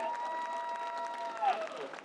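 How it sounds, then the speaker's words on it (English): Convention crowd at a Star Wars fan panel applauding, a moderate patter of claps under a faint steady tone, with a brief swell near the end. "Round of applause."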